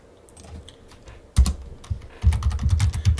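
Keys clatter on a computer keyboard as a package-update command is typed into a Linux terminal: a few sparse clicks at first, then a sharp burst of keystrokes and a quicker, denser run of close, crisp taps.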